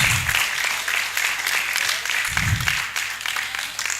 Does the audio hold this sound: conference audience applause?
yes